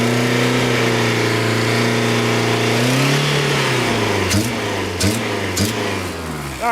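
A Honda Civic that smokes heavily, warm after running for half an hour, idles steadily and then revs up. The engine pitch climbs and wavers, with a few sharp clicks near the end. No one speaks.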